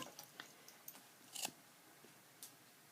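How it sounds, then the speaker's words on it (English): Scissors snip along the arm seam of a gray wool sweater in a series of faint, close clicks and crisp cuts, one stronger snip in the middle, with no speech. "I'm going to cut along the arm seam"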